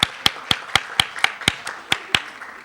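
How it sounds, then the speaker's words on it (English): Sharp, evenly spaced claps at a school debate evening, about four per second, crisp and close with little crowd wash. It sounds more like a few people clapping than a full audience. "Let's give a round of applause to our schools this evening."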